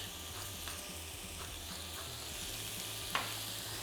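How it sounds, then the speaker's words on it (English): Ground pork seasoned with salt and black pepper stir-fries in a wok, a steady close sizzle with occasional scraping stirs and one sharp clack of the spatula near the end, no voices. "I'm going to stir fry this for 2 to 3 minutes to get it nicely browned and mostly cooked through"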